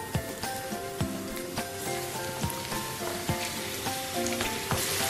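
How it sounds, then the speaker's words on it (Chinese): Shrimp coated in flour deep-frying in a pot of hot oil, a dense, close, crackling sizzle with bursts of popping and a few knocking stir sounds throughout. "把虾放进来炸"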